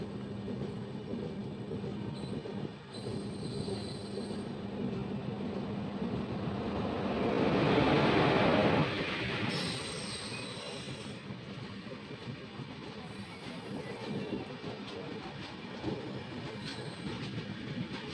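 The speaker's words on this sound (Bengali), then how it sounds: "এটা ট্রেন আসছে," A train rolls past near Jolarpettai station in wet weather, its rumble swelling to a loud peak midway with squealing wheels and clattering wagons, then fading back to a steady roll.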